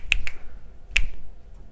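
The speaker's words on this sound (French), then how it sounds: "faire comme des claquements de doigts" Crisp finger snaps in a quiet room: two quick ones, then a single snap after a short pause.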